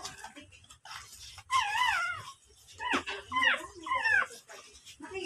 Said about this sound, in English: These puppies, they are very tiny.